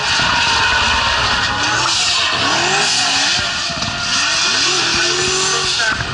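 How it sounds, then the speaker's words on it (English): A Nissan 350Z race car lapping a track on a wide sweeping line, loud engine roar with tire squeal and skidding, pitch sweeping up and down continuously and close by. "Riding that wide sweeping line is Miller in the 350Z, getting a feel for how"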